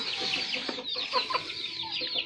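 Chickens cluck close by in quick, choppy bursts at a farmyard feeding with corn, the calls fairly soft and repeating over a quiet background.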